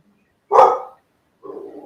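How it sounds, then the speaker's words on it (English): A dog barks close by, one loud sharp bark followed by a second, lower and shorter bark a moment later. "My dog."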